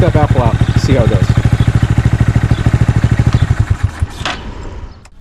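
Motorcycle engine idling with the exhaust baffle removed, a steady rapid low thumping pulse throughout, near and fairly loud, with a short throttle blip early on and a clattering fade toward the end.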